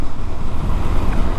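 A KTM Duke 390 BS6 motorcycle engine drones loudly and close through a downshift, its rough low rumble mixed with wind rush, brief and with no speech.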